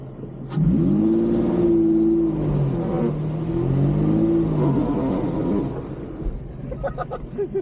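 A car engine revs hard during offroad driving, pitch climbing and falling in sustained loud surges with a rumbling low end, while someone speaks briefly over it.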